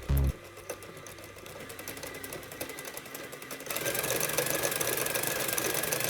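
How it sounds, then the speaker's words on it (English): A small LEGO motor runs at full speed after a brief thump, giving a fast whirring, clattering buzz that grows louder and steadier partway through, close up with no talking. "So then I added this plate underneath the motor, and now we can test it out."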